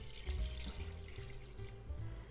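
Room-temperature water pours into a container while a semolina cake is being made, a soft, steady trickle with faint splashes heard close up and without talk.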